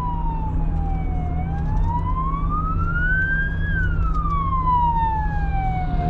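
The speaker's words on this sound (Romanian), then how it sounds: "Uite mașini ce vin și dincolo. Vin și pompierii." Loud wailing fire engine sirens sweeping up and down in pitch, passing close over a steady engine rumble.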